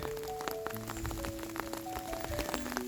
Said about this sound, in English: The glory of the garden in the rain.